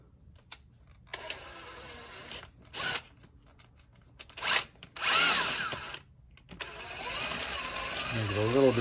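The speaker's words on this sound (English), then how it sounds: "So let's get the drill set up. All right, there are no obstacles to this, so I'm going to just drill right here" A power drill bores a hole near the pressure switch on a Smittybuilt 2781 air compressor in several short, loud bursts separated by pauses, ending in a longer sustained whine as the bit works through.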